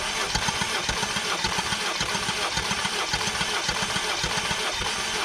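An engine cranks over steadily on the starter during a compression test, with a fast, even chugging pulse and no firing, running continuously and fairly close.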